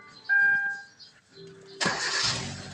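A car engine cranked with an ignition key switch catches and starts abruptly, settling into a loud, steady running noise after a short quieter stretch of faint tones and clicks.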